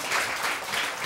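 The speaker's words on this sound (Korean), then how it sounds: "박수." A congregation at a pastors' lecture on divine healing breaks into brief, steady applause, a soft hiss of many hands clapping together with no speech over it.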